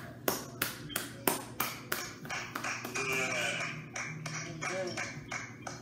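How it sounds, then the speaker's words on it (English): A church congregation claps in worship, first a few sharp separate claps, then a dense, sustained patter of many hands, with voices and music faintly underneath. "I want us to clap for Him again."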